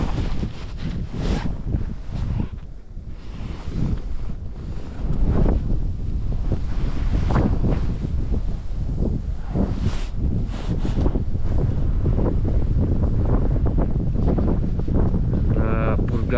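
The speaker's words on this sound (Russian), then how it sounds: "Вот это я называю пурга." Blizzard wind sweeping across a large frozen lake during winter ice fishing, a steady loud roar buffeting the microphone with gusting surges throughout, no voices.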